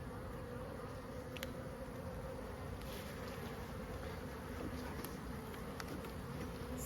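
Honey bees buzz steadily around an open hive at Brooks Farm during a sunset inspection, a dense continuous drone filling the air with no pauses.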